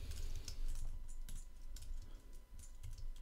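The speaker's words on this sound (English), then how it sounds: "my typing is terrible at the moment" Fast, uneven typing on a computer keyboard, a dense run of light clicks and taps that carries on steadily throughout, close and fairly quiet, with nobody speaking.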